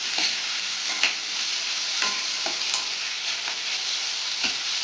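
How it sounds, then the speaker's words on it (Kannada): Mushroom, onion and capsicum stir-fry in a pan, giving a steady sizzle broken by repeated scraping stirs and clacks of a spatula, close and alone without speech. "ಚೆನ್ನಾಗಿ ಈ ಥರ ಫ್ರೈ ಆಗಿ ಹಸಿ ವಾಸನೆ ಹೋಗೋತಂಕ ಸ್ವಲ್ಪ ದಪ್ಪನೇ ಇಟ್ಕೊಳ್ಳಿ"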